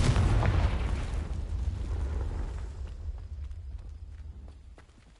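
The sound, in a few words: Confringo blasting spell exploding, from video game Hogwarts Legacy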